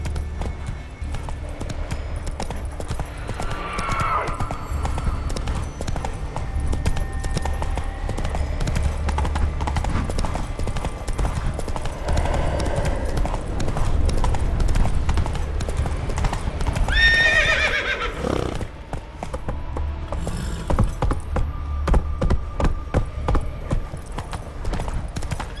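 A horse in The Witcher 3 video game trots with steady, continuous clip-clop hoofbeats throughout, broken by a few whinnies and neighs, close and prominent over a low rumbling background.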